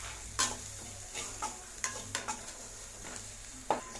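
Masala powders being stirred and sautéed in a pan over low flame, with soft scraping strokes and scattered light clicks of a spoon against the pan over a faint steady sizzle.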